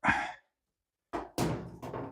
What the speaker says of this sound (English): We're going to go ahead and just put the door on top.